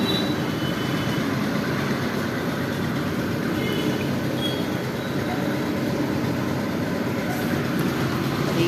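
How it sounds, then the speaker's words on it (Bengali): A city metro train running nearby during heavy rain, a steady, loud, unbroken rumble and roar that holds level for the whole stretch. "এই যে মেট্রো চলছে"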